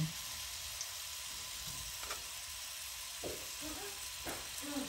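Onions sautéing in a pan toward caramelizing, a steady low sizzle throughout with a few soft stirring scrapes around the middle and end, heard alone at moderate level.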